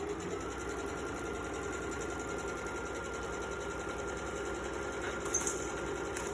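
Sewing machine stitching a quilt panel with a steady, even mechanical whir that holds close and constant throughout, ending in a brief back stitch with a small clack near the end.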